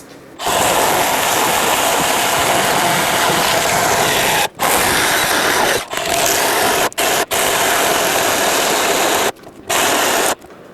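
Milwaukee M12 FHS-0 cordless chainsaw biting through an oak board along the full bar length, a loud steady buzzing whine that cuts out in several brief gaps and restarts.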